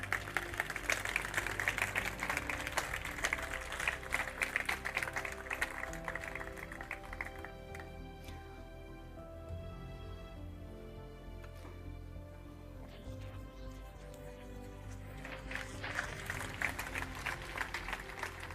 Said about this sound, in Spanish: suba al escenario y a ustedes lo reciban con un aplauso